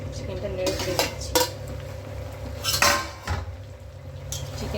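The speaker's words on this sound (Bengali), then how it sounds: "এদিকে আমি ঢাকনাটা খুলে একটু চিকেনটা নেড়ে চেড়ে দিচ্ছি।" A pot lid is lifted with a clank and chicken is stirred in a pan, bringing several sharp metallic spoon-on-pan knocks and scrapes over a steady low hum.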